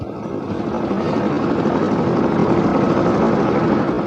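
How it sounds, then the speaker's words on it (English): Steady, loud helicopter engine and rotor noise, a broad continuous roar that builds slightly and holds without voices. "The helicopter took off and climbed slowly into the sky."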